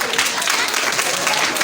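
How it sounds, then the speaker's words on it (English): A school audience claps together in a continuous dense wash of hand claps, loud and close, steady for the whole stretch with no break. "clap for yourself."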